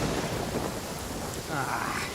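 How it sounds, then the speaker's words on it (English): A lightning storm in Genshin Impact pours down as dense, roaring rain with thunder rumbling beneath it, loud and continuous throughout. "Uh-oh! Lightning storm!"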